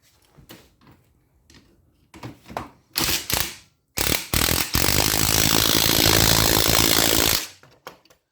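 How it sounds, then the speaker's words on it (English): Bolts on a Tao Raptor 200 ATV are tightened with a ratchet, first in short clicking bursts, then in a long, loud, continuous buzz of rapid clicks close by, ending in a few faint knocks. "And then we're going to tighten these bolts back up."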